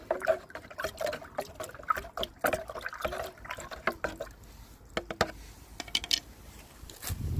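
Rainwater with a fertiliser solution poured from a container onto depleted garden soil to feed lavender seedlings, giving close, uneven splashing and trickling with brief drips and pauses and no talking.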